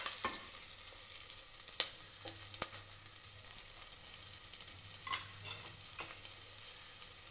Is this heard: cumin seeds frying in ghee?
yes